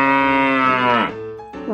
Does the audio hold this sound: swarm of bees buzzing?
no